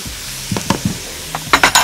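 Shredded cabbage is stir-fried in a pan for a meat and vegetable spring roll filling, with a soft sizzle and a few quick scraping and clattering stirs up close.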